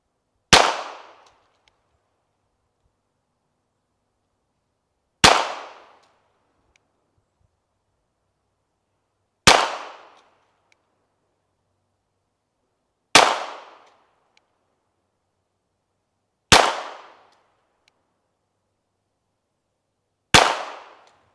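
High Standard Supermatic Citation pistol fired at a target outdoors: six sharp, crisp shots spaced several seconds apart, each with a brief decaying ring and silence in between.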